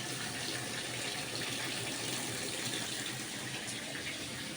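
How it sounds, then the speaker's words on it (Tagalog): Water runs steadily from a tap while laundry is being started, a constant broadband rush at low level with no break and no voices over it. "I-open natin ang tubig."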